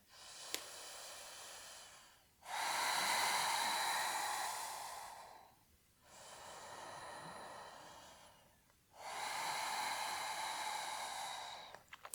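Slow, deep yoga breathing in a gentle beginner flow, heard alone as three long airy breaths, each a steady soft rush separated by short quiet pauses, fairly close.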